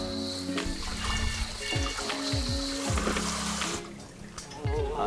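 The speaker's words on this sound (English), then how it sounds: "And then give it one more rinse." Running water splashes and trickles into a wok as it is rinsed, with metallic knocks and scraping of a cooking utensil against the pan, close and fairly loud, briefly dropping off before resuming.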